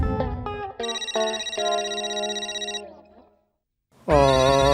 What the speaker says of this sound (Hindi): गया माधवी का फोन।